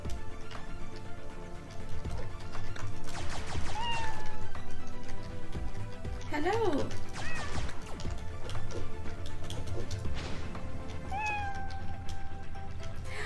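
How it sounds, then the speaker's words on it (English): A cat in the video game Mariposa gives several clear, rising meows spread across the stretch over steady in-game background sound, with a voice briefly speaking once. "They do make a meow sound when you're near them."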